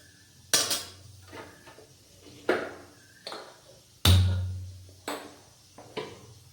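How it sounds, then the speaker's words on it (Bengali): An iron kadai is set on the stove and handled in a home kitchen while sajne data chachhari is cooked. Several distinct metallic clanks and knocks sound close by, spaced out, with quiet background noise between them. "কড়াই বসিয়ে দিয়েছি, কড়াইয়ের মধ্যে দিয়ে দেবো সর্ষের তেল।"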